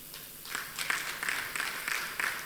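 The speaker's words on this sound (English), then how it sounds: "Let's keep clapping." Applause at a law conference, a soft patter of clapping from a modest audience, slightly distant and fairly quiet, rising a little and then holding steady.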